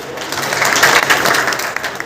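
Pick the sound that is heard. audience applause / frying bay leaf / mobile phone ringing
audience applause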